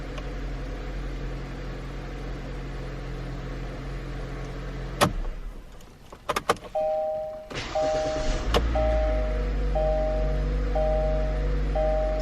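A 2019 Kia Forte with the 2.0 engine and a newly replaced crankshaft position sensor idles at first. A few sharp clicks and a short crank follow, then the engine starts and settles to a steady hum while a warning chime repeats at a regular beat.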